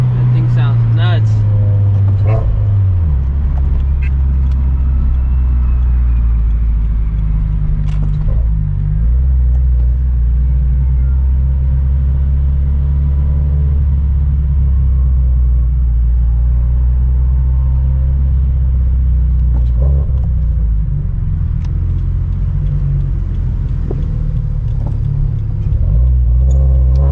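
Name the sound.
straight pipe turbo Subaru BRZ and Toyota GT86 exhaust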